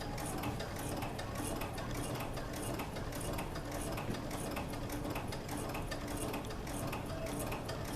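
A sewing machine stitching a chiffon skirt, running in a fast, even mechanical clatter from start to finish, close and steady.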